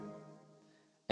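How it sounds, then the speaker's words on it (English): Guitar finishing a major pentatonic phrase and capping it with a low octave, notes ringing and fading close up, with a sudden loud noise cutting in at the end. "I always like to put the cap on the end there with the low octave"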